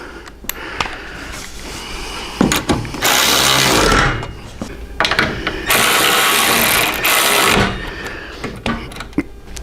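Power tool tightening bolts on a stretched rear motorcycle fender, with two sustained whirring bursts of a few seconds each, preceded and followed by short clicks and clanks of handling nearby.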